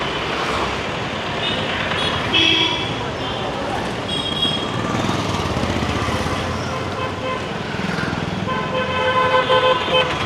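Heavy street traffic in Kadapa during Dussehra festivities, dense engine rumble with repeated car and truck horns honking near and far, and people talking over the din.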